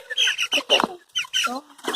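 Cornish Cross chickens kept on pasture in a wood chip garden cluck repeatedly in a close, busy series of short calls, with a few higher squawks mixed in and no talk.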